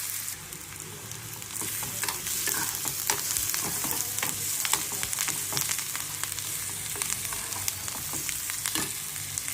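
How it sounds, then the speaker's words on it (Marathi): Sliced onion fries with a pinch of turmeric in a pan while lemon rice is cooked, giving a continuous close sizzle broken by frequent scraping stirs of a spoon, with no voices. "आता कांदा चांगला भाजला गेलाय."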